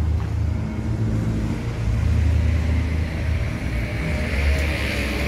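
A BSI bus engine rumbles steadily, a loud, close, low drone that stays fairly even throughout with slight swells, and no voices over it.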